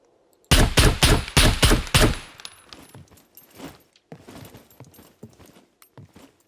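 Rapid gunfire burst of about six loud, close shots in the SCUM video game, fired at bulletproof base walls, followed by quieter scattered impacts and rattling.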